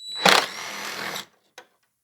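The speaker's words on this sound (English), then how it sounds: "you're going to need an impact wrench here and extension and 10mm socket" Impact wrench on a 10mm socket with an extension removing a grille bolt on a 2024 Ford Super Duty truck, one loud whirring burst of about a second, then silence and a brief faint clack.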